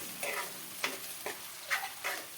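Tomato paste with salt sizzles softly in a pan while a spoon stirs it in a few slow scraping passes, the frying faint and steady beneath.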